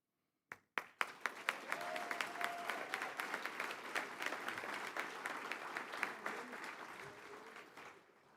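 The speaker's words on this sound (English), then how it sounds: "Let's give her another round of applause for that milestone." Sustained audience applause at a college awards ceremony honoring a retiring agriculture extension educator, starting with a few sharp claps and swelling into steady, dense clapping from a large crowd.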